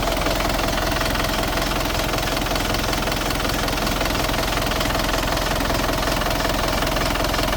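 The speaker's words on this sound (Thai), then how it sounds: "เนี่ยครับเสียงเครื่องดีนะครับ" A 2003 Isuzu D-Max pickup's diesel engine idles steadily up close, with a continuous rattling knock and dense mechanical clatter that never lets up.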